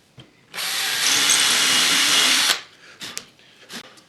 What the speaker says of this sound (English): I need to make sure that my drill bit is going deep enough and drill pilot